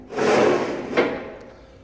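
Chip tray of an Ellis 3000 band saw handled at close range, a wooden, drawer-like slide and rub lasting about a second, a short knock near the end, then fading to quiet.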